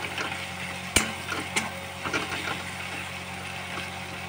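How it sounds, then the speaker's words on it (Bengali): Onion, ginger and garlic stir-fry in a pan with a soft continuous sizzle, broken by a couple of sharp clicks and scrapes of the spatula against the pan. "এই দেখুন আমি পেঁয়াজে আদা রসুনটা দিয়ে এটা ভালো করে নাড়ছি, ভাজছি এটা ভালো করে"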